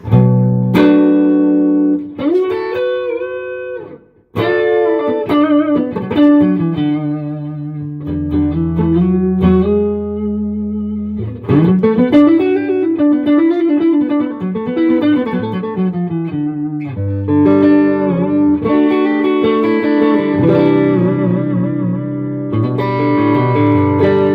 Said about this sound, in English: the Black Panel, which is the Blackface Fender Deluxe Reverb